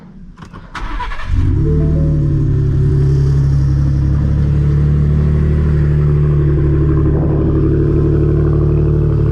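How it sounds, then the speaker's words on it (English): A 2025 Ford F-150 Tremor pickup with a Flowmaster FlowFX exhaust fires up with a brief clatter, then settles into a loud, deep, rumbling exhaust idle that holds steady up close. "yesterday I just put a Flowmaster FlowFX exhaust on it"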